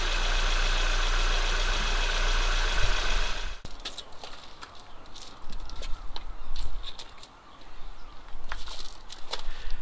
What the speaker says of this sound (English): there's no misfire on the engine, but it really needs to sit and get warmed up